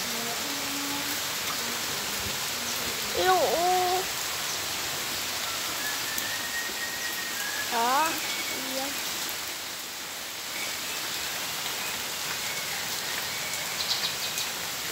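Steady rain falls and hisses across the scene, with a few chirping, sweeping calls rising above it and brief talk in the background.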